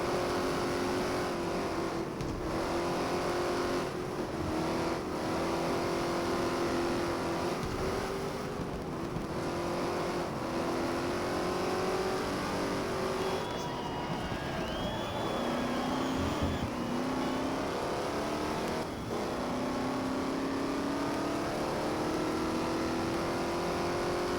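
Car engine in the racing game GT Legends, a steady, droning engine note that climbs and falls through gear changes across a long stretch, constant and fairly loud with no talking.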